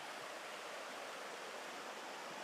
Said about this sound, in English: so more questions while we sit by the river, and I'll let you listen to the sounds of nature